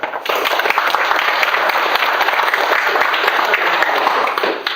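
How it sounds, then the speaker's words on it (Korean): Group applause at a founding gathering of a clan youth association, a dense, continuous crackle of many hands clapping, loud and steady for several seconds before tapering slightly at the end. "우리 한번 박수 한번 쳐드립시다."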